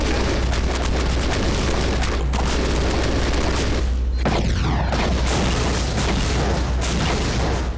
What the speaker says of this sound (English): rocket launchers blow their bodies apart without destroying their head.